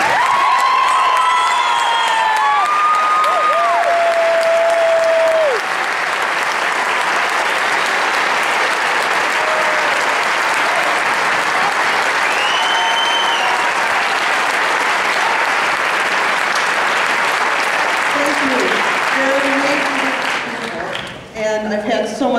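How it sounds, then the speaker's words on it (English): A concert band audience applauds and cheers for the graduating seniors: sustained, loud, dense clapping from a large crowd, with whistles and a few shouts early on, fading out at the very end. "please stand up and give the seniors a round of applause"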